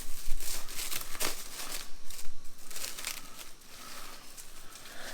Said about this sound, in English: let's unwrap the plastic here